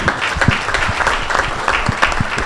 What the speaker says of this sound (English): Could you give Andy a big round of applause,